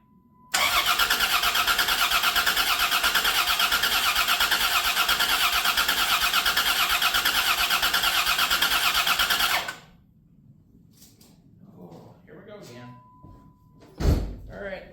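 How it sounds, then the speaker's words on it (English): Starter cranks a 1991 Dodge Grand Caravan SE for about nine seconds in a loud, steady, unbroken grind without catching. It then stops, leaving quiet low noises and a sharp bang near the end. "Watch this when we crank it over now"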